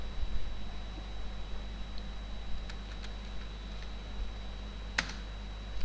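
Keys click on a computer keyboard during a Visual Basic lesson, a handful of scattered, fairly close taps and one sharper stroke over a quiet room hum.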